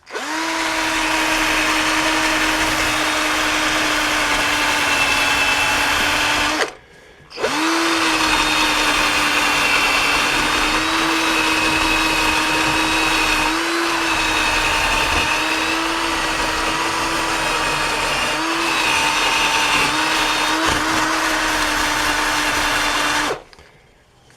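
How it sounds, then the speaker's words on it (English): A power drill with a wire wheel whines steadily at close range, grinding on brake parts of a 2014 Chevy Silverado for long stretches and stopping briefly twice. "So we're just got a wire wheel on the drill here."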